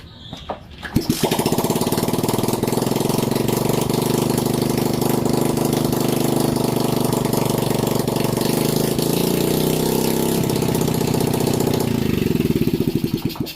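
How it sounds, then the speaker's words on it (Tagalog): A motorcycle engine fires up and runs with no exhaust pipe fitted, a loud, raw, steady putter close by after a brief start, with the revs dropping slightly near the end. "medyo tunog bangka lang kasi hindi pa natin na ikakabit yung tambutso dahil ire-repaint pa natin yan"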